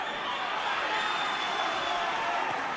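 Applause at a British 154lb title boxing match between Jamie Moore and David Walker, a steady broadband wash of crowd clapping and noise heard throughout, fairly even in level.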